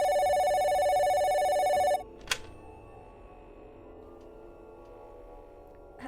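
Telephone ringing in an audio drama, a loud electronic bell trill for about two seconds that stops abruptly, followed by a sharp click and then a quiet room hum.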